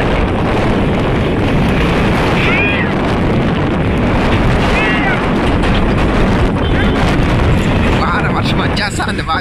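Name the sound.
strong wind blowing through trees in Hindupur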